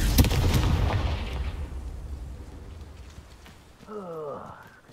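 A Confringo fire spell explodes in Hogwarts Legacy, a dense crackling burst up front that rolls off into a fading rumble, followed near the end by a short rising whoosh-like tone.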